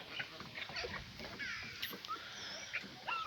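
Faint, high-pitched whimpers and squeaks from young dogs, scattered and overlapping against a soft, noisy outdoor background.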